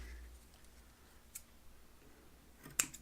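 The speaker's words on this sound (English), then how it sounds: "Grab some scissors," Scissors trim a cotton wick on a Hellvape Drop Dead RDA, giving faint, sparse small clicks and a sharper snip near the end in a quiet room.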